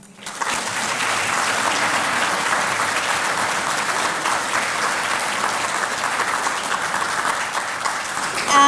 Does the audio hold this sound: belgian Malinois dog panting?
no